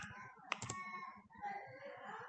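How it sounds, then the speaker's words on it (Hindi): Numbers being tapped in on a computer keyboard while entering values in an Excel spreadsheet, a few quick clicks and taps close up over a faint background hum. "जैसे मैं यहाँ कुछ नंबर टाइप कर देती हूँ, ये अभी जनरल मोड में टाइप हो रहे हैं।"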